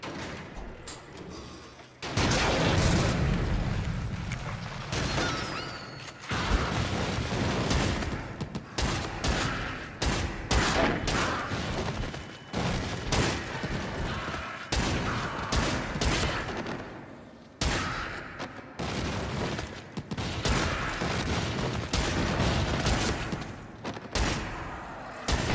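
Dense bursts of gunfire from the horror game Until Dawn, loud and close, sharp shots piling into rapid volleys almost without pause over a steady background.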